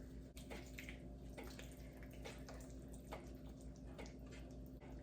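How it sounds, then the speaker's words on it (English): Water runs into a pot on the stove while mac and cheese is being made, a steady trickling and splashing that is quiet and close, with faint clinks and no talk. "Just adding a titch more water."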